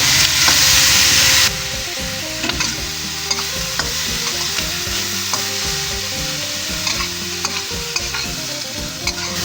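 Fresh fire-roasted bamboo shoots tip into a pot for a Thai country dish, with a loud sizzle and splash at first, then steady stirring and scraping, its intermittent clinks and scrapes close and clear with no talking.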